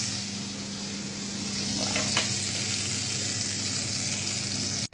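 Fresh butter sizzling in a frying pan while fergese with peppers is cooked, a steady close hiss of frying with a faint background hum and no voices.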